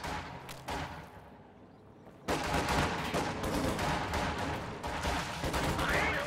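Soldiers in a war video game open fire, with Sturm Pioneers shooting from inside a church: dense rapid gunfire bursts, a brief lull, then a louder, continuous barrage of overlapping shots.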